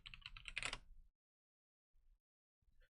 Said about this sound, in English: Apologies for the typing sound.